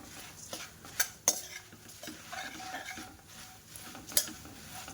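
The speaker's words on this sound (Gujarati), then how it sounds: "તરત જ તેની અંદર મમરા ઉમેરી દેવાના છે અને તરત જ બધું હલાવવાનું છે" Puffed rice and spice masala stirred in a pan over low flame: quiet scraping and rustling with a few sharp clinks of a spoon against the pan, no speech.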